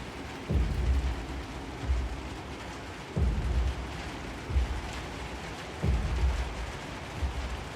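Steady rain in the video game Little Nightmares II hisses continuously while low rumbling thunder-like thumps roll in at regular intervals.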